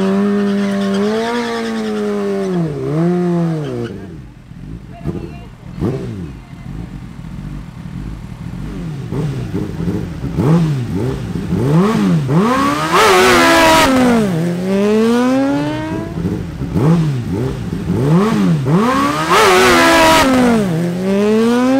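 Sport motorcycles, a Kawasaki ZH2, Suzuki Hayabusa, Ninja ZX10R and Suzuki GSX-R1000, at a drag race: loud, close engines rev hard and rise and fall through rapid gear changes, with repeated high-pitched acceleration runs and no talking.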